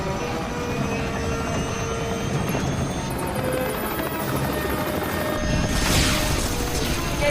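A helicopter with a failing rotor and overloaded electronics in a disaster action movie: loud continuous roaring engine and rotor noise with grinding, rising mechanical strain and a bright whine near the end.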